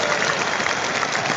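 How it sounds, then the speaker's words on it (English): A short burst of dense applause from a crowd, steady and fairly loud throughout. "another big round of applause for pitching in the state of Chicago"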